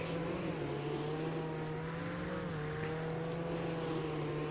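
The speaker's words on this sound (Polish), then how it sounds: "Dobra, włączam silnik. No i jedziemy." A car engine in the Roblox video game drones at a steady, even pitch while driving, with a slight dip midway, loud and alone with no voices.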